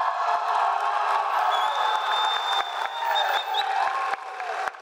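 A large crowd at a university undergraduate commencement ceremony cheers, whoops and applauds loudly and continuously, with shrill shouts rising above the roar.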